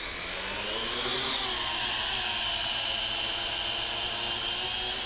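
A WLtoys Q303 quadcopter drone lifts off outdoors on calm grass, its rotors spinning up into a loud, steady high-pitched whine that holds without a break.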